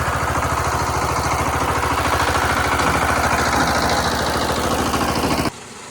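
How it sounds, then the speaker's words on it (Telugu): A small tractor's engine runs at a steady idle-like thrum with a fast low pulse, close and fairly loud, before cutting off sharply near the end. "అదిగో చిన్న ట్రాక్టర్"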